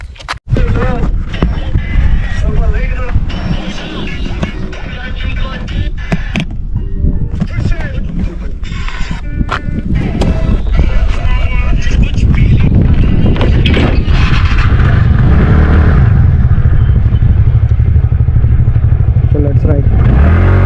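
A TVS Ntorq scooter is ridden with its exhaust droning steadily and close, building louder partway through, with rattling and wind buffeting layered over it.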